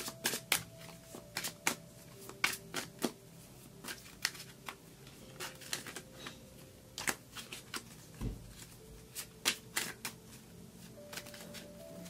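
Tarot cards shuffled by hand in a quiet room, a run of quick, crisp riffling snaps and soft slides repeating in close bursts, fairly faint and with no talking.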